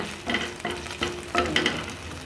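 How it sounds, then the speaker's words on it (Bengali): Hot oil spatters in a pan in a close, fizzing sizzle that swells into about four rhythmic bursts, like repeated stirring or drops hitting the oil, with no talking. "তেল চিটকাছে"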